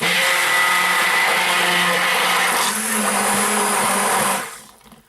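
A stick blender whirs loudly while mixing honeyed fig and saffron soap batter, a steady high-pitched motor drone that shifts slightly in pitch midway before cutting off abruptly near the end.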